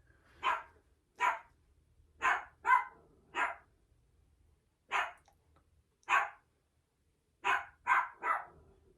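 A dog barks repeatedly, sharp single barks in uneven bursts with short pauses, close by and loud against a quiet background.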